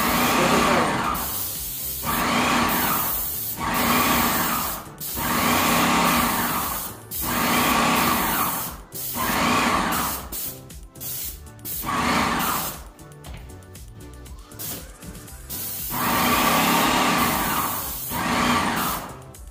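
A paint sprayer applying paint in repeated loud hissing bursts, each lasting a second or two, separated by short gaps, with a choppier stretch midway, heard close.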